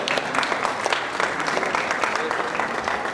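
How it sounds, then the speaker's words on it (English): An audience at a school winter concert claps steadily and fairly loudly throughout, a dense continuous applause with a murmur of voices beneath. "you can give Russell a round of applause"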